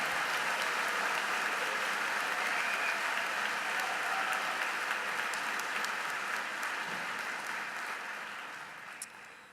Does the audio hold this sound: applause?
yes